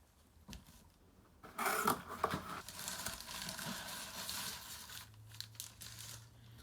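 Brown paper packing crinkles and rustles close up while a box holding a bobblehead and cards is unpacked, with a steady stretch of crackling handling that fades toward the end.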